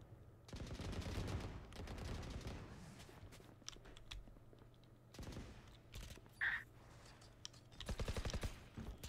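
Rapid bursts of gunfire in a tactical shooter video game, several dense rattling volleys separated by quieter stretches, with keyboard and mouse clicks and footsteps in between, heard at low level.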